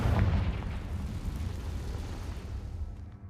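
A deep rumbling blast from the Confringo fire spell in the video game Hogwarts Legacy, loudest at the start and then fading into a long, low roar that tails off over a few seconds.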